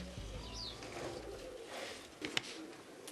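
Pigeons coo softly at a tall pigeon tower in the Siwa oasis, Egypt, the low calls faint under outdoor ambience, with a short sharp knock near the end.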